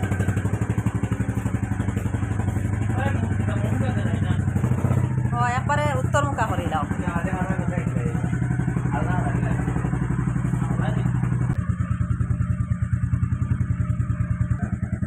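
A motorcycle being moved out onto the veranda of an Assam village house runs with a steady, close engine rumble throughout, with some clattering and someone talking over it.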